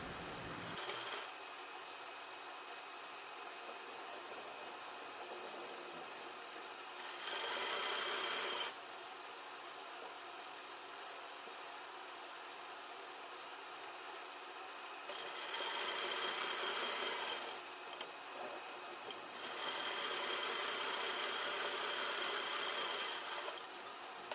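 A sewing machine double-stitches a seam on a lined suit, running in steady rasping bursts of several seconds each with quiet pauses between, loud and close with no talk.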